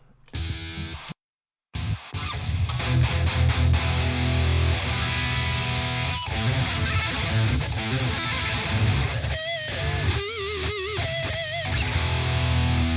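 Heavy distorted electric guitar through an amp modeler chugs continuously after a brief pause near the start, dense and loud with sharp palm-muted attacks and occasional bent notes.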